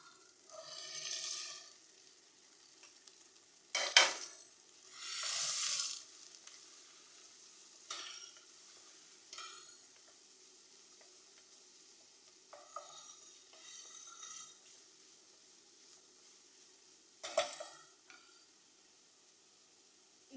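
Beans sautéing in a pan, Sri Lankan style, stirred in scattered bursts of scraping and sizzle separated by quieter stretches.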